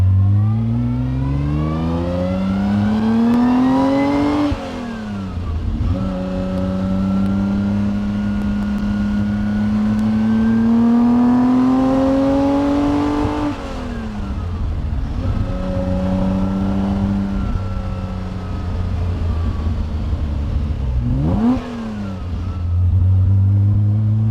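A 1956 Aston Martin DB3S-R road-tests through twisty roads, its engine climbing through loud rising revs, dropping at each gear change and pulling hard again, close and continuous with no talk.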